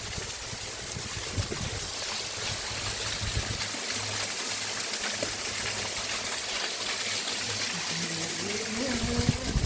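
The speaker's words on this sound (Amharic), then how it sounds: "የሚያምር ፏፏቴ" A waterfall and river pour in a continuous broad rush, loud and close, with steady water noise filling the scene and no clear talk.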